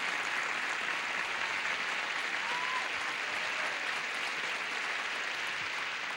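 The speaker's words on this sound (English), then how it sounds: "Let's have a nice round of applause for these people." Studio audience applause at a 1980 Tic Tac Dough game show, a steady, dense wash of clapping that holds at an even level throughout with no voices over it.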